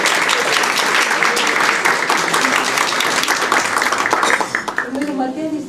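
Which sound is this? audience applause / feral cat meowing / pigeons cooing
audience applause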